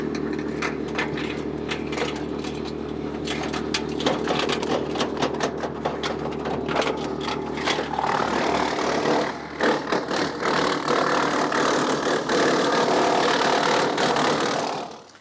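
Woodland Mills WC68 wood chipper running steadily with a droning engine hum and rattling, shifting midway into a brighter, busier churning roar that continues loud to the end.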